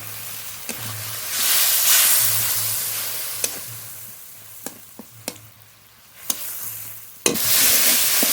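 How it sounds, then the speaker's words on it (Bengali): Spice paste fries in oil for a small-fish curry, bursts of sizzling rising and fading, punctuated by sharp clinks and scrapes of a spoon on the pan, close and fairly loud with no talking. "মশলা খুব ভালো করে কষিয়ে নিয়েছি মশলা থেকে তেলও ছেড়ে দিয়েছে"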